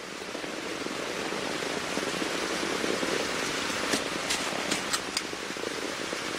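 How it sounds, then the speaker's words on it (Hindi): Steady rain hisses continuously at an even level, with a few sharper drips and splashes standing out toward the end. "बारिश होने लगी।"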